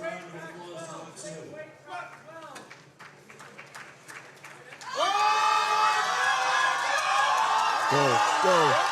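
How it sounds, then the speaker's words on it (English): An audience at a powerlifting national championship applauds the spotters and loaders, breaking into a sustained wave of clapping and cheering about halfway through, after an announcer's voice over murmuring crowd noise. "Give this spotters and loaders a round of applause on 2."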